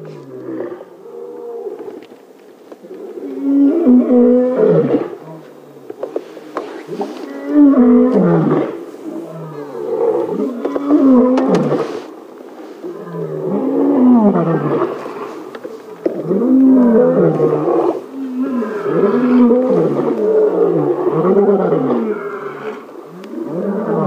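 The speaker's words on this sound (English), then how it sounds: "We've got lions roaring all around us" Lions roar repeatedly on an African safari drive, deep, heavy roars rising and falling in long overlapping bouts, loud and close, with some faint talk mixed in.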